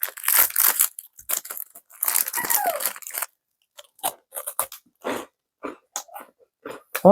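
A packaged crunchy snack being eaten up close, with loud crunching bites followed by a series of shorter chewing crunches that fade into softer mouth sounds.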